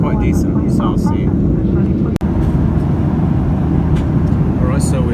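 Steady broadband roar inside the cabin of a Ryanair Boeing 737-800 cruising mid-flight, loud and constant, with faint voices in the background and one brief dropout.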